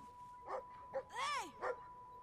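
Game dog from Brothers: A Tale of Two Sons gives a few soft barks with a drawn-out, wavering yelp in the middle, quiet and close, over a constant low electronic hum.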